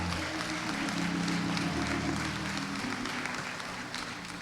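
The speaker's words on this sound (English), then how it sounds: "can you give yourselves another round of applause and our students?" A graduation crowd at a Peralta Colleges African American ceremony applauds, with a steady wash of clapping and cheering under a faint sustained tone, easing slightly toward the end.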